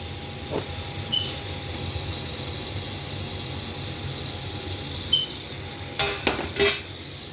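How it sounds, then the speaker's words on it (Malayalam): Boiled carrots and potatoes go into a pot of beef stew, heard as a quick cluster of metallic clanks and knocks near the end after a long stretch of steady low kitchen hum. "ഇനി ഈ ബോയിൽ ചെയ്ത് വെച്ച ക്യാരറ്റും ഉരുളക്കിഴങ്ങും കൂടി ഇതിനകത്തേക്ക് ഞാൻ ആഡ് ചെയ്യാണ്."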